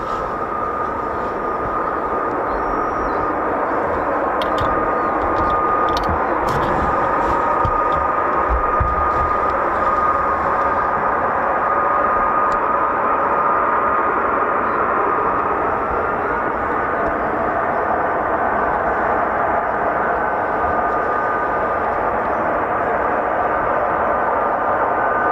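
An F-35B stealth fighter jet taxis at an RAF air base, a loud steady engine roar with a whining tone that fills the whole stretch without letup.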